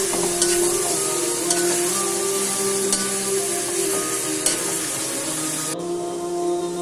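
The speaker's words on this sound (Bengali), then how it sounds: "পেঁয়াজ ভাজা একটু নরম হলে রসুন বাটা 1 টেবিল চামচ ঢেলে নাড়তে থাকি।" Onion and garlic paste frying in a pan, a loud, even sizzle throughout with occasional faint spatula scrapes as it is stirred, cutting off slightly near the end.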